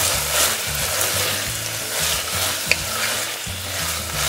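Grated coconut being stirred into frying masala for a roadside-style empty salna, a continuous sizzle with repeated scraping strokes of a spoon in the pan and one small sharp tick, no voices.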